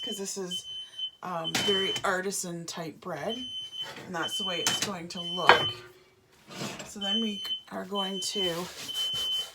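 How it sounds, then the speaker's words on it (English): A kitchen smoke alarm set off by a hot oven while artisan bread is being made gives repeated high, steady beeps that run under nearly continuous close talking. "That's my fire alarm going off."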